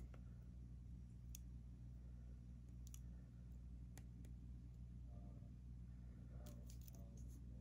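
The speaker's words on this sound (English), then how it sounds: "You cut off the end, just like this, and close the loop." Jewelry wire on a stone pendant necklace is snipped with a small cutter, giving a few faint, crisp clicks and snips over a steady low room hum, with no talk.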